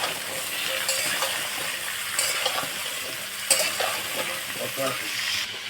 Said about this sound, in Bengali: এবারে সব কেটে রাখা সবজিগুলো দিয়ে দেবো এবার ভালো করে আমি সবজিগুলোকে ভেজে নেবো লাল লাল করে